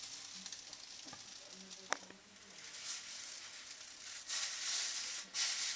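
Noodles fry in a hot pan with sesame oil, giving a steady sizzle and hiss with occasional clinks and scrapes of a utensil, the frying swelling louder in bursts toward the end.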